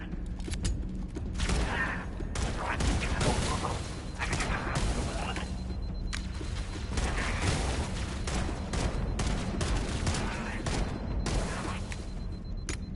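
Battle rifle fire in the game Halo Campaign Evolved: repeated sharp bursts of shots in quick succession over a steady bed of game noise and mechanical clatter, continuing across the whole stretch.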